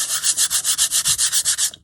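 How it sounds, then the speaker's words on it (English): Rhythmic sanding strokes on a book cover, about a dozen even back-and-forth rubs in steady succession, close and fairly loud, with no talking. "a light sanding really"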